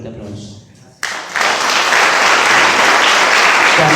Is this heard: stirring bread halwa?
no